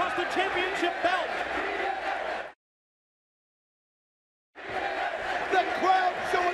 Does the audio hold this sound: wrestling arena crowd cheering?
yes